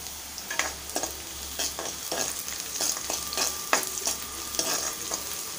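Chilli pieces and softened onion sauté in hot oil, a close sizzle broken by regular scrapes of a spoon stirring against the pan, with no talking.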